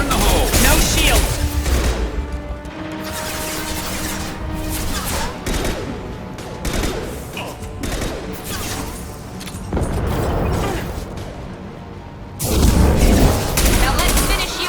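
Grenade blasts and gunfire in the Mass Effect 2 Legendary Edition video game, with booming impacts and bursts of shots running across a loud, dense battle mix, speech-like game voices mixed in throughout.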